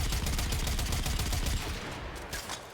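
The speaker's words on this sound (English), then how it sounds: "So when you're hip firing, it's automatic." Kuva Quartakk hip firing on full auto in Warframe: a rapid, unbroken stream of loud shots for about a second and a half, then the burst cuts off and fades into a short tail.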